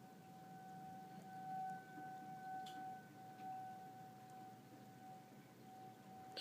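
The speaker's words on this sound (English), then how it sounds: "Hear one siren still on." A tornado siren drones steadily far off on a bitterly cold, snowy day, its faint sustained wail holding under a low rumble of ambient noise with no voices.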